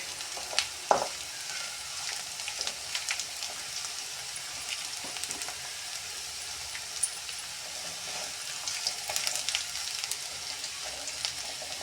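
Oil sizzles steadily in a pan as green chilies fry, with a dense, crackling hiss and occasional sharper pops, close by and with no talking.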